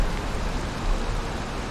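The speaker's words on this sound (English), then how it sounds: "Because I'm sick of the rain." Steady rain in the video game Valheim, a dense, even hiss of falling rain with faint low rumble underneath, constant and unbroken with no voices.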